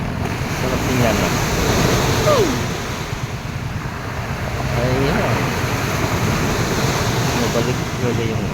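Big sea waves surging and crashing at the seaside, a continuous rumbling roar with wind buffeting the microphone, swelling and easing in slow cycles while a person talks over it.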